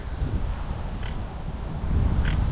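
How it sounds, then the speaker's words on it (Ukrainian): A steady, rough wind off the North Sea rumbles into the microphone while cycling on the Belgian coast, gusting slightly stronger near the end. "вітер з моря дме"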